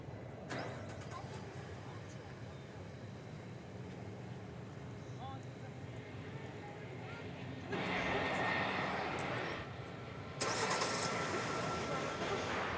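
An airliner lands far off on runway 18 right at DFW Airport, a distant, steady broadband jet roar that swells louder in its later seconds, with faint voices underneath.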